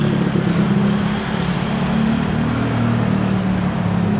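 A motorcycle carries its rider along a road, the engine holding a steady, loud drone close by for the whole stretch, with wind and road rumble mixed in and no speech.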